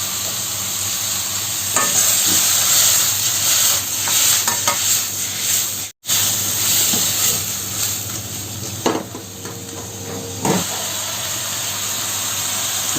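Prawns hit a pan of sautéed chicken while chow mein is being made, giving a steady, close, loud sizzle and frying hiss with occasional stirring scrapes and clinks, a brief break midway, and no talking.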